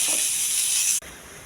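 Chopped onions hit hot oil with a loud, steady sizzle while frying for a broccoli fry, the hiss cutting sharply and settling slightly lower after a second.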